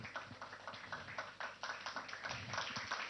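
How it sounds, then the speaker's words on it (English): Audience applause for a speaker walking to the stage at a BudgIt governance and business event in Nigeria, steady rapid clapping from a crowd heard at a distance, fairly faint and continuous throughout. "Please, a round of applause for him."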